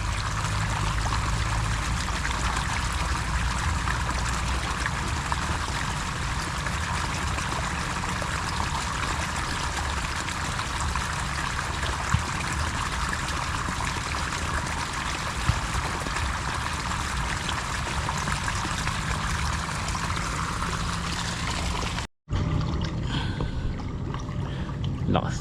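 Irrigation water runs strongly along a furrow in an eggplant field, making a constant broad rushing roar that holds steady for over twenty seconds before a brief cutout near the end.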